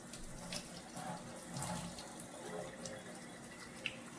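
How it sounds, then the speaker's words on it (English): Tap water runs steadily into a kitchen sink while a turkey leg is rinsed, a soft, continuous splashing hiss with occasional small drips, fairly quiet and without talk. "bring over my turkey leg. Rinse that off."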